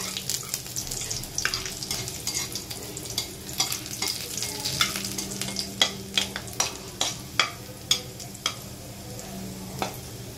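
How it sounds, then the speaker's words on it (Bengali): Garlic frying in hot oil gives a steady sizzle, broken by sharp metallic clicks and scrapes as it is stirred near the pan at a regular pace. "রসুনটা ভাজা হলে তুলে তারপরে পেঁয়াজটা দেবো, আগে রসুনটা ভাজি"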